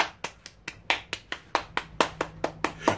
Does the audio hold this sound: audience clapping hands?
yes